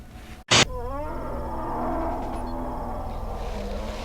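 An angry bear roaring, a loud, close, drawn-out growling roar that starts after a sharp burst and holds for several seconds.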